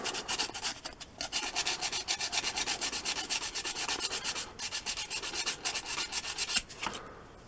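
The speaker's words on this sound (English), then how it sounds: "I'll take a piece of sandpaper, dull that down." A piece of sandpaper rubs back and forth over the sharp edge of a handmade hairpin, steady rapid scraping strokes close by with a brief pause near the start and the strokes stopping at the very end.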